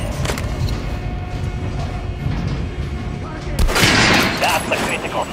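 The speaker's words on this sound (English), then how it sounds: "Now shoot the armored dummy" Gunfire at an armored training dummy in Metro Last Light Redux, a continuous loud volley of shots with a sharper, brighter burst of impacts near the end.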